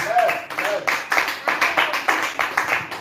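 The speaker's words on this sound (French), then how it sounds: "On acclame très fort." A church congregation claps in a steady, fairly quick rhythm, a moderately loud group applause heard throughout with a brief voice near the start.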